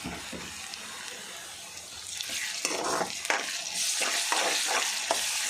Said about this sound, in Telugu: దీంట్లో వెల్లుల్లి పేస్ట్ వేసుకున్నాం అల్లం వెల్లుల్లి పేస్ట్ ఓకేనా అది కూడా వేగనిద్దాం కొంచెం